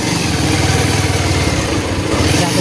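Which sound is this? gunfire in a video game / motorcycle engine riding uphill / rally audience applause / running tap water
motorcycle engine riding uphill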